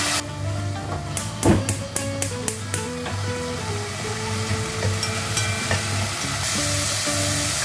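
Dried shrimp stir-fry in a pan until dry. A quick run of sharp taps and clatter comes early, then a steady sizzle with occasional stirring continues under background music.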